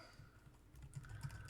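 Computer keyboard typing, faint and close, with quick irregular key clicks that grow a little busier toward the end.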